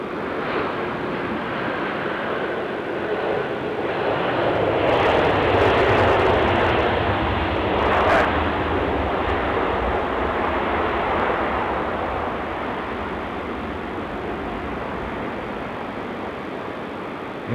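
A plane landing on runway 16 right at Sydney Airport roars in a broad, steady rumble that swells in the middle and slowly fades away.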